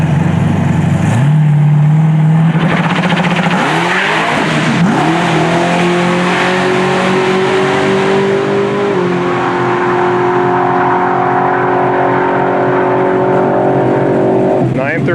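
A drag racing car making a quarter-mile pass on a strip, its engine roaring loud and close as it launches and climbs through the gears, one long sustained run with a voice talking over it.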